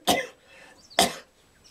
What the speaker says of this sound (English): this dry cough is breaking me up